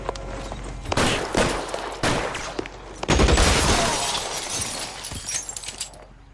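Gunfire in the L.A. Noire video game: loud, sharp shots and shattering impacts crack out in several bursts over a steady background, with a heavy cluster of blasts near the middle.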